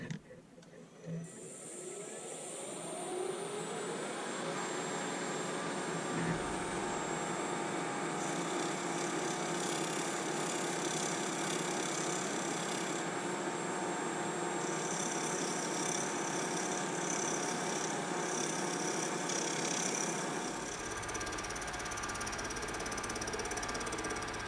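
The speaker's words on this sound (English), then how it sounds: "take my skew chisel and use it like a scraper and just run across this edge" A skew chisel used as a scraper across the edge of a wood burl on a lathe, producing a steady broadband scraping hiss over the motor's hum that runs continuously for about twenty seconds at a close, even level.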